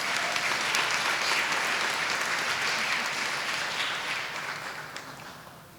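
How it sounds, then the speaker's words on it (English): A crowd claps and applauds steadily, a thick wash of clapping that gradually thins and fades toward the end. "let's give one big round of applause for our elementary Teachers of the Year"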